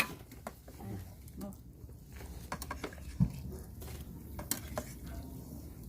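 Instant Mama noodles cooking in a pot outdoors, with soft stirring, utensil taps against the pot and faint bubbling, all low and close under a steady background hum.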